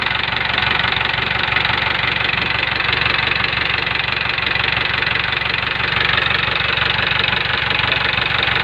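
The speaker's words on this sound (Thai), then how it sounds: "เปิดฝาหมอหน้าเบิ้งกันครับ" An Isuzu diesel truck engine running loud and close with the hood open, a steady rough knocking rumble with slight swells as it is revved.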